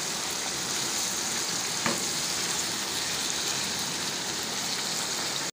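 Shashlik chicken and vegetables bubble in gravy over a high flame, giving a dense, even sizzle like steady rain. It stays loud and constant throughout, with one faint tap partway and no talking.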